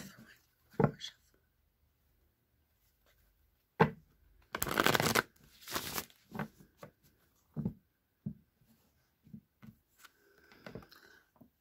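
A deck of playing cards being shuffled, crisp riffling bursts with one long flurry, close and clear, followed by scattered light card taps and handling; brief talking occurs between the shuffles.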